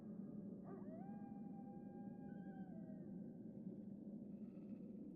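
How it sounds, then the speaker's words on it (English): A wolf howling in the stealth game Metal Gear Solid: The Twin Snakes, one long rising and sustained faint howl with overlapping tones above a constant low rumble. "I hear the wolves howling"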